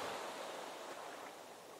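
Ocean surf washing against a Hawaiian shore: a steady, full hiss of breaking water that rolls on without pause, fairly close and alone with no voices.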